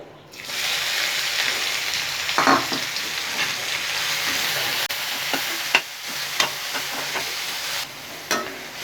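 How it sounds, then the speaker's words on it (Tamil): Two finely chopped large onions sauté in hot oil in a pan for egg and drumstick curry, giving a continuous soft sizzle broken by several sharp scraping stirs of a spoon, close up and without speech. "வெங்காயம் வந்து நல்லா சாஃப்ட் ஆகிறது வரைக்கும் இதை நல்லா வதக்கணும்"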